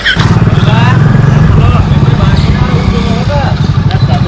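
A motorcycle engine chugs loudly and close by in a steady, pulsing rumble as it pulls away, while people talk over it.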